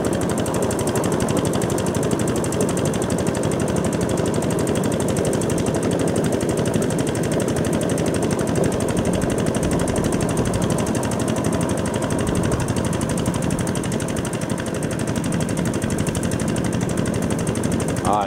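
DC688q combine harvester cutting rice in a paddy field, its engine a loud, constant rattling roar with dense mechanical chatter that never lets up.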